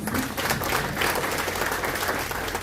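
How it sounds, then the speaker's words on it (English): A short burst of full, dense applause at a youth leaders symposium of the Eastern Caribbean Supreme Court, steady and close throughout with no speech over it. "Round of applause for that, please"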